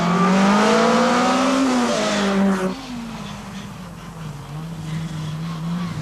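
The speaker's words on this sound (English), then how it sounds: "This is Paul Muscant, number 8, with the Opel Kadett GSI" An Opel Kadett GSI rally car at the 1985 Hellendoorn Rally in Holland, its engine loudly revving and climbing through gears close by, then the pitch drops and it pulls away into a lower, steadier drone.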